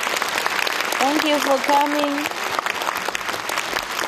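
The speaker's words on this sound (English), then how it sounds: "Let's give her a big round of applause" An audience at a book launch event applauds loudly and steadily for several seconds while a voice speaks over the clapping.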